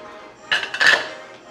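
A spoon stirring fish stew (moqueca) in a pot, giving a couple of brief metallic scrapes and clinks against the pot, close and fairly loud.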